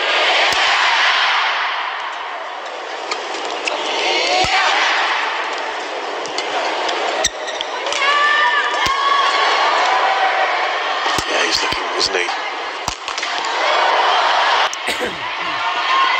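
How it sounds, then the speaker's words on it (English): A badminton arena crowd at the Malaysia Masters 2024 men's singles semifinal murmurs and stirs while others shush them, a broad airy rustle of noise with scattered sharp knocks, under a commentator's voice. "The crowd making noise, being shushed by others"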